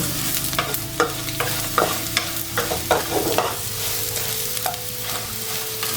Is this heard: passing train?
no